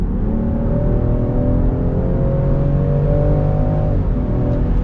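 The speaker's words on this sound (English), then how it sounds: "We'll go full throttle now." A Land Rover Defender 110 P400 at full throttle, its engine droning loudly with a rising, then shifting pitch across several seconds, heard from inside the cabin with road rumble beneath and no talk.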